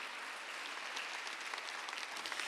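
Congregation clapping during a Sunday church service, an even, continuous patter of many hands heard fairly faint and distant, with no talking over it.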